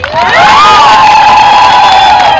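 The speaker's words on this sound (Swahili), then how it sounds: "Naomba jipigieni makofi mengi sana." A large outdoor crowd at a community health centre ceremony in Mtwango cheers loudly with high shouts and children's voices, a dense sustained roar close by with little audible clapping.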